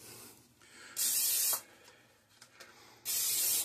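Cooking spray hisses onto a burger press over a sink in two loud bursts, about half a second each, separated by quieter handling noise.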